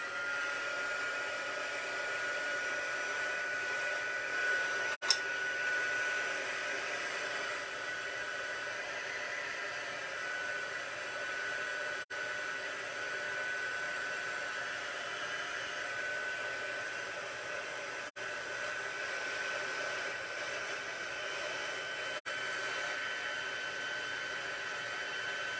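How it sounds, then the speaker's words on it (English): An embossing heat tool blows hot air in a steady, loud whoosh for a long stretch during card making, with a few brief clicks breaking the constant rush. "we need our embossing, the heat tool"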